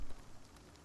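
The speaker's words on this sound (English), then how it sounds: "Oh, this rain. Will it ever stop?" Soft rain in the Spiritfarer video game, a faint, steady patter on surfaces with scattered drops, heard alone and quietly for under a second.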